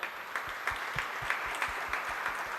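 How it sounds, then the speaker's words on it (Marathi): An audience at a book publication ceremony claps in a soft, fairly even rhythm, heard at a distance as quiet applause with distinct repeated hand claps and no speech. "तर आपण त्यांच्यासाठी एकदा जोरदार टाळ्या वाजवूया."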